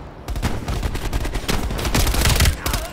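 Bursts of automatic gunfire rip through a Call of Duty Black Ops Cold War match, loud and close, with dense overlapping shots that come almost without a break.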